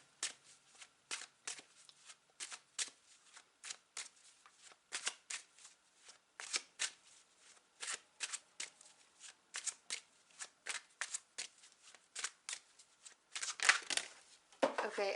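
Tarot cards being shuffled in repeated quick riffling bursts, close and crisp with short pauses between, growing denser and louder near the end.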